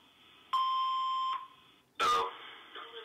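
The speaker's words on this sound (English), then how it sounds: "Oh, I have a message after the tone." A voicemail beep tone sounds as a sustained electronic beep lasting nearly a second, followed by a louder burst of noisy sound and a softer lingering tone.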